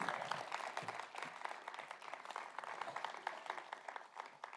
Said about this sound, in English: A round of applause, please, for President Nixon.